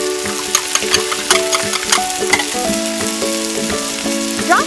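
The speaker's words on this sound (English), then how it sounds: "Fry until both sides of the fish are cooked evenly." Steady crackling sizzle of marinated salmon frying in hot oil in a pan, with scattered pops and a few light clinks of a utensil, close and continuous.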